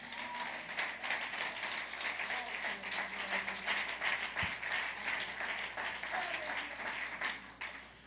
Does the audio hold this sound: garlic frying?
no